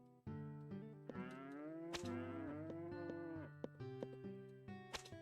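A cow moos in a farming video game, a long, loud, drawn-out bellow with rising and falling pitch, backed by steady game music and small interface blips.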